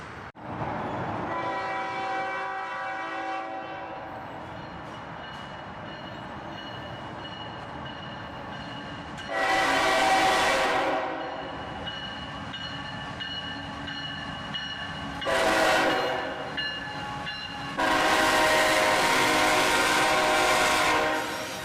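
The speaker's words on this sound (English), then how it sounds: "the Norfolk Southern loco would pass with a single SD40-2 and just 2 boxcars on this train today" A Norfolk Southern SD40-2 diesel locomotive pulling two boxcars rolls past, its engine droning steadily while the horn sounds three times in long, loud blasts, the last one stretched out, with no voices.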